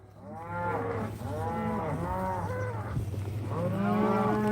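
Cattle gathered in a pen for doctoring pinkeye moo repeatedly and loudly nearby, several long overlapping bellows one after another with no talking.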